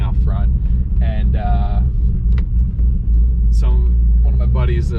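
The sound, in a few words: cammed Cadillac CTS-V engine idling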